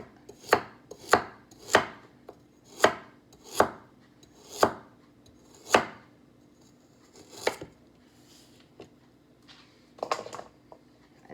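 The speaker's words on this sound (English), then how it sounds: "We're going to cut our carrots this way." Knife cutting carrots on a board, about ten crisp, loud chops spaced unevenly with short pauses, close and alone without talking.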